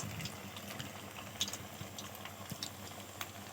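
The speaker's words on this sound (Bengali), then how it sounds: "দেখো তেলটা কিরম আস্তে আস্তে বুঝবুঝি ছাড়ছে" Oil bubbles and sizzles softly in a pan over a low-medium gas flame while puffed rice sweets fry, a faint steady crackle with scattered small pops and no voices.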